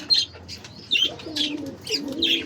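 Lutino cockatiels, two pairs kept as pets, give close, repeated chirps and warbling calls in short bursts, with soft cooing-like murmurs between them.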